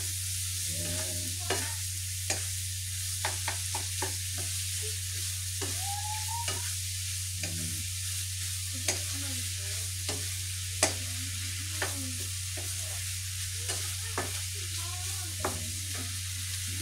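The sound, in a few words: stirring seasoned food frying in a pan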